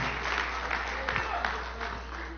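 A church congregation claps during a Pentecostal sermon, with a steady patter of many hands and a few sharper accented claps. A voice speaks over the applause, and a low hum runs underneath.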